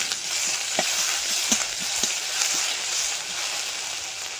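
Chopped onion frying in oil produces a constant hissing sizzle, close and even, broken by a few soft knocks of stirring, with no voices.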